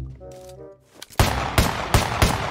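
Four loud, booming blasts from a SPAS-12 pump shotgun in PUBG Mobile, evenly spaced about every half second, following a brief tonal in-game sound.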